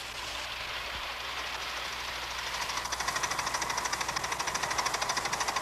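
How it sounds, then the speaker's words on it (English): A model railroad engine runs along a club's mile-long track, giving a steady rumbling hiss that settles into a rapid, regular clickety-clack rhythm partway through, continuous and moderately close. "Today, they test their engines on more than a mile of track."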